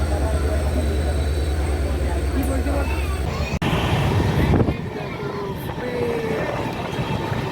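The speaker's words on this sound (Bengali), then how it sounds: "সাঁতরাগাছি জাংশন থেকে ট্রেনটা বেরোচ্ছে।" Train pulling out of Santragachi Junction, a steady loud rumble of wheels and carriage noise with a low engine drone that fades after a few seconds, under a voice.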